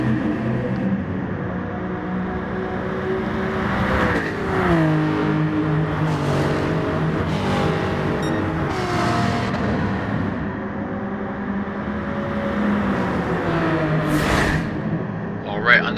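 Race car engines in a racing video game, a Genesis and an Aston Martin, droning steadily with rising and falling whine as gears shift, the engine tone sweeping in pitch throughout, with someone talking over it.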